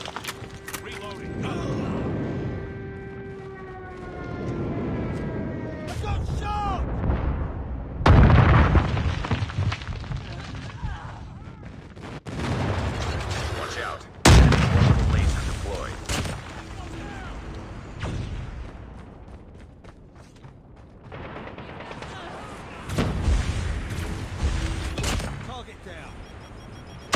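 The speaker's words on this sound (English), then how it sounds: "Enemy airstrike incoming." Call of Duty Mobile hardpoint match with an enemy airstrike: several loud, deep booms land at intervals amid gunfire and scattered in-game radio voices, with heavier blasts near the middle and toward the end.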